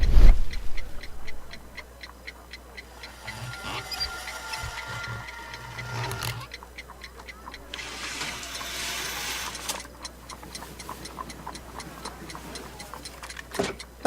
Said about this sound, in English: A fancy ticking homemade gift from a secret admirer